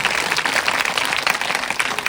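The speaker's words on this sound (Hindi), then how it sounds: "सभी लोग तालियों से स्वागत कीजिए।" Audience applause welcoming a speaker at a Shrimad Bhagwat Katha gathering in Kadwan, Rohtas, steady scattered clapping from a crowd held at an even level throughout, with no voices over it.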